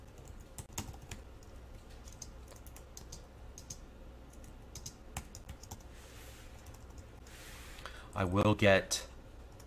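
Faint, steady clicking of keys on a computer keyboard runs throughout, with a person speaking briefly near the end.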